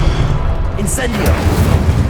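A fiery Incendio spell bursts out in Hogwarts Legacy, a booming whoosh over a low rumbling background with a bright crackle near the middle, loud and close.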